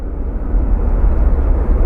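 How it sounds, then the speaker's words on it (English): A Delta Boeing 767 airliner at Phoenix Sky Harbor airport gives a steady, loud low jet rumble with a broad roar, constant throughout and with no voices. "I think that might be a Delta 767"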